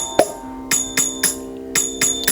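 Mridanga, a two-headed clay drum, played in a repeating tere kheta stroke pattern: a few crisp, ringing hand strokes in quick succession, close and moderately loud, with a sustained pitched tone beneath and no speech.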